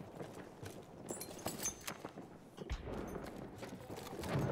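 Horse hooves clip-clop in the World War I shooter Battlefield 1, moderately faint, uneven steps mixed with other game noise and no talk.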